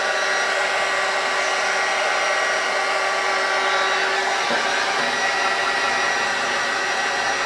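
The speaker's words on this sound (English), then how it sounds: "I'm going to hit it with the heat tool" A heat tool blows steadily to dry a watercolor and ink painting, making a loud, continuous whooshing hum throughout with a slight shift partway through.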